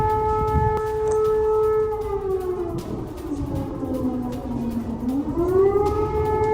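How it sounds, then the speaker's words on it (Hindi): Civil defence air raid sirens wail over Donetsk during wartime attacks, a loud sustained tone that sinks and then climbs again, with distant, slightly hollow outdoor ambience and no voices. "वॉर सायरन किस तरह से यहां पर बज रहे हैं ये आप सुन सकते हैं।"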